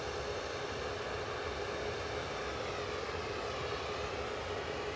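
A steady jet engine roar from an airliner turning as it taxis at Manchester Airport, broadband and constant, heard from a moderate distance with no break.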